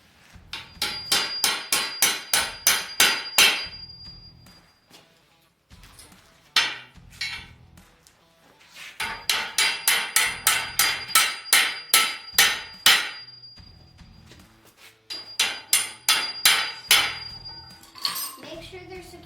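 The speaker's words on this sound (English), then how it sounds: "put them in, hammer them in." Metal feet are hammered into the ends of steel pipes for a hanging gong target frame, loud close ringing strikes in quick rhythmic bursts of about a dozen blows each, separated by short pauses.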